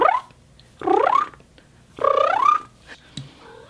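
A cat makes several short, rising chirps and trills, three main calls spaced about a second apart, close and fairly quiet, with no talking.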